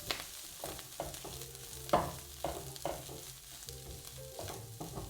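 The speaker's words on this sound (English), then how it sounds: "Now that our mustard seeds have started popping away, add in the chickpeas with all those spices." Chickpeas and mustard seeds sizzle in a hot pan with spices, a steady close frying hiss broken by scattered sharp pops and occasional stirring scrapes, with no talking.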